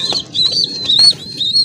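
Pet pigeons for sale, making soft coos over several brief bursts of flapping wings at close range, busy and lively across a short moment.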